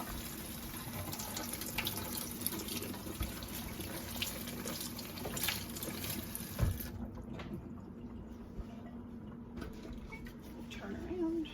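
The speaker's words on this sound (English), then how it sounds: "So we'll just rinse the whole thing off." A g-tube feeding bag rinsed under a sink tap: water gushes and splashes steadily up close for several seconds, then the flow shuts off and a quieter background remains.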